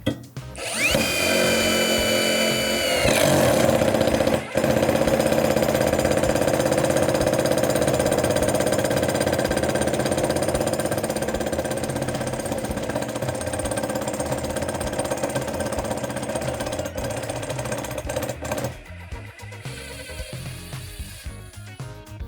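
A Dnipro-M DTD-201BC Ultra cordless impact driver runs loud and close in a long continuous burst of rapid hammering whirr, biting through a rubber gasket before winding down and stopping; no speech.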